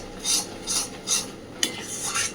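A spoon stirs arum leaf paste mixed with turmeric in a pan, giving several soft, rhythmic scraping strokes, close and fairly quiet, with one brief sharper knock near the end.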